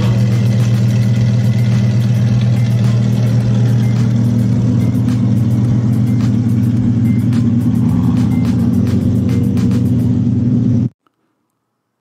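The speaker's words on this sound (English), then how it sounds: "Daily Driven Exotics Supercar Lamborghini leaving car show" A Lamborghini supercar pulls away from a Pitstop Sunday car show meet in Newport Beach, California, its engine a loud, steady low rumble close by for about eleven seconds, with faint clicks over it, before cutting off abruptly.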